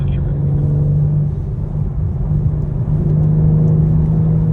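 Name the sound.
BMW M3 engine on track at Sonoma Speedway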